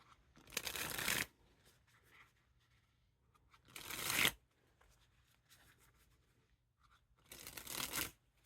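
Queen Bee playing cards by Ellusionist dribbled from hand to hand in three separate bursts, each a fast, close, papery riffle lasting under a second, with quiet pauses between.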